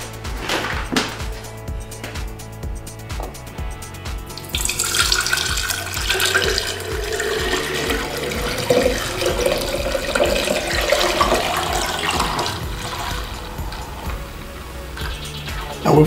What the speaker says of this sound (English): And now we're just gonna pour the almond milk.